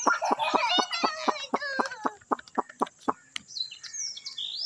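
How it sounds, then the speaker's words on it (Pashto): Birds flocking in to be fed after a night of heavy rain give a rapid, close run of rhythmic chirps and clucking calls, with thinner high tweets toward the end. "شابه شابه شابه دي ټولې مرغۍ راځي"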